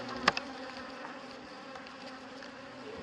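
Bees and hornets buzz around a beehive fitted with an anti-hornet tent, a steady close hum of wings with a couple of sharp clicks at the start.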